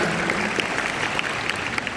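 A short burst of steady audience applause in a hall at a national youth conference, even and continuous at moderate distance throughout the two seconds, with no talk over it.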